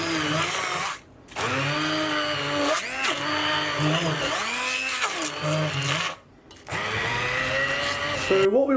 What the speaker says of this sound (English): use a stick blender or a hand blender to just mash this